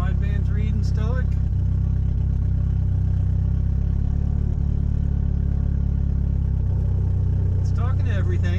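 A Hyundai 4G63 engine from the 1989-94 era, fitted with a brand new wiring harness, idles at a steady, even rumble throughout, with a person talking briefly at the start and again near the end.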